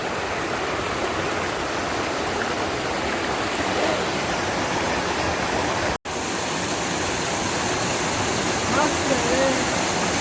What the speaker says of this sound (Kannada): ಬಂತು ಪಾಲ್ಸು ವಾ ಲೋಕಲ್ ಒಂದು ಮಸ್ತ್ ಪಾಲ್ಸು